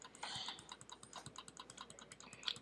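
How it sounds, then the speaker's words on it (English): Rapid, steady clicking during a Cookie Clicker game session, a dense run of small sharp taps close to the microphone, with no talking. "I'm gonna click non-stop."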